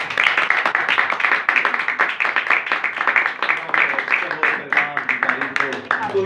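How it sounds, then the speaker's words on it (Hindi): A church congregation claps loudly in rhythmic, sharp bursts, mixed with cheering and voices, continuing for several seconds. "एक बार जोरदार तालियां।"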